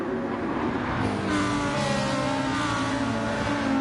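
Lamborghini and McLaren race cars in Gran Turismo 7 at Interlagos drone loudly and continuously, with engine notes holding steady under hard acceleration and no voices.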